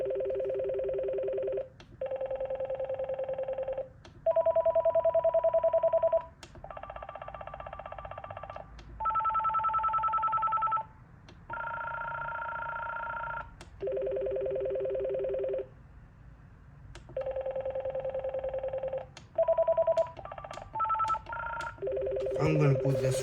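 Electronic ringtones from a thrift store telephone play in turn, each a repeating pattern of steady beeping tones in short bursts separated by brief pauses, loud and close, with a few sharp clicks between them.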